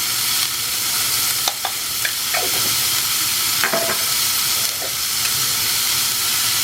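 Yellow pumpkin and onion with turmeric frying in a pan, a constant close sizzle broken by occasional scraping and clinking as the vegetables are stirred.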